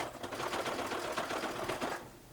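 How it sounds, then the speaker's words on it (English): A sewing machine stitches through the layers of a DIY waist bag, a fast steady mechanical whir with rapid needle ticks, close and even, running without pause for a couple of seconds. "Once I've got both layers under the presser foot, then it's easier to start stitching"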